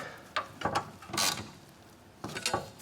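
A ratchet snugs down bolts on a transmission being fitted during an LS engine swap, giving several short bursts of clicking, close and fairly loud, with quiet gaps between them.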